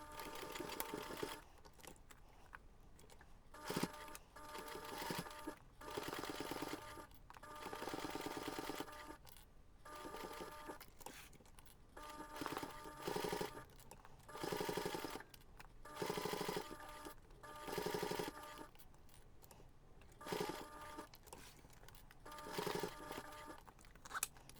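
A sewing machine stitches bias binding around the edge of a jewellery pouch in repeated bursts of close, rapid mechanical whirring, each run separated by short pauses.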